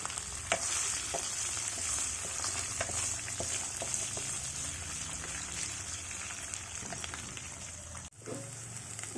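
Chopped onions and green chillies frying in a pan give a dense, bright sizzle like light rain, dotted with small spatter pops and occasional stirring scrapes, close and steady before a brief clatter near the end.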